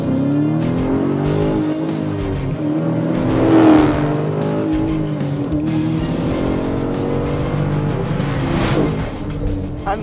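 A 2020 Dodge Challenger R/T Scat Pack Widebody's naturally aspirated 6.4-litre Hemi V8 accelerates hard and rises in pitch through gears, with a brief tire squeal. It is heard fairly loud from inside the cabin, with a low, throbbing rumble throughout.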